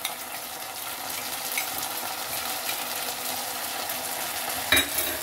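Capsicum and red chili sauce hiss and sizzle in a hot pan for chilli idli, a steady frying crackle with a soft stir and a sharp clatter near the end.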